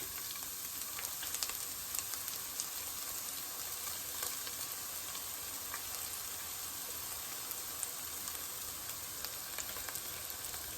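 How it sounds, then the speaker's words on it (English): A chopped onion and a large garlic clove frying in oil, giving a steady, even hiss with fine crackles throughout, close and unbroken, with no talking. "So I've got here one chopped onion and one big garlic clove, which I'm going to add it"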